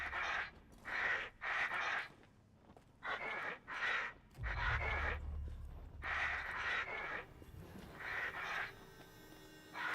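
Crows caw in the Resident Evil Village video game, a run of harsh, repeated calls in short bursts with brief gaps, over a low game rumble that swells midway.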